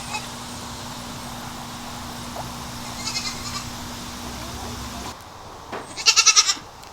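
Goats bleat nearby outdoors, a few short wavering cries rising above a steady low hum and background noise, with a brief cluster of rapid high calls toward the end.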